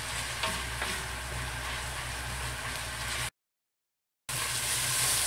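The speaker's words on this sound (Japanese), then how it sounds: "砂糖を少し入れてこれ炒めると、色が早く出ます。" Chicken curry ingredients sizzle steadily in a pan while being stir-fried with a little sugar. The frying is loud and continuous, with scraping from stirring, then breaks off for about a second before resuming.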